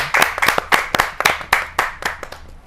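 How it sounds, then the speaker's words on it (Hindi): Audience applause greeting a poet called to the stage at a Hindi kavi sammelan, with a dense burst of hand clapping that rises in rhythmic surges and then thins out, loud and close. "जोरदार तालियों के साथ उनका स्वागत"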